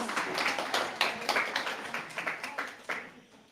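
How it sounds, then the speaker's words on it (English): An audience at a cultural women's empowerment event in London gives a speaker a round of applause, a fairly quiet run of many claps with irregular sharp peaks that thins out and fades toward the end. "can we give a big round of applause to Hayley first, please?"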